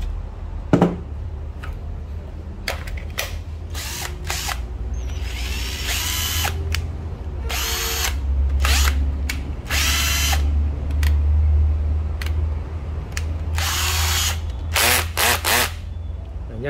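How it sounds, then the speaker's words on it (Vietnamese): A brand-new Nati EZT113 cordless drill whirs in repeated bursts, spinning up and down between fast and slow speeds, with clicks of handling between runs, loud and close. "Số 26, một cây Nati EZT113 ha các bạn, cây khoan."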